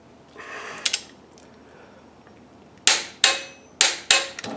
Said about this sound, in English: now we can torque this down to 85 foot-pounds